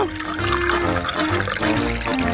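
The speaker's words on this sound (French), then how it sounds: "Maintenant, je vais verser le jus dans un verre." Fresh-squeezed orange juice pours steadily into a glass in one continuous, close, splashing stream with no pause.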